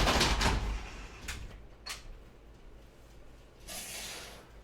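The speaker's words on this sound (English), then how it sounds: "I forgot to close my patio door" A patio sliding door pulled closed at home: a loud rolling swish at the start, a few lighter clunks and rattles, then a final hissing slide near the end, all fairly close and with no talking.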